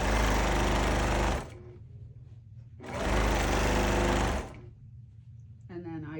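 Sewing machine running in two long bursts during free-motion quilting of a baby star quilt, its speed set by a foot pedal, with quieter gaps between runs and a faint voice in the pauses.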